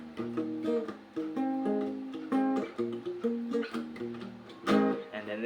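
A 2-5-1 chord progression in a major key played in sequence on a keyboard-like instrument, each chord struck and held briefly, with a few repeated strikes, clear and close.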